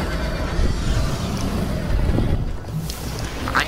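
A horse in the video game Minecraft Story Mode neighs amid a steady rushing, wind-like wash of game sound, with no talk over it.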